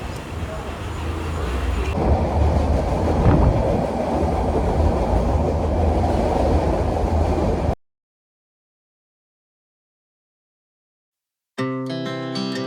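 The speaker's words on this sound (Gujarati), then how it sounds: "ચાલો ટ્રેન પણ આવી ગઈ છે," A train at Una railway station rumbles steadily with a loud, broadband roar and faint clatter, then cuts to silence before music begins.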